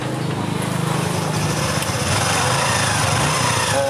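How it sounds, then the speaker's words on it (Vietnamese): A Honda Future Neo Fi motorcycle with an ECM fault idles close by, its small engine giving a steady, buzzy, even putter that runs alone without stalling. "Rồi mình nổ máy cho anh em xem là xe không bao giờ tắt máy nha."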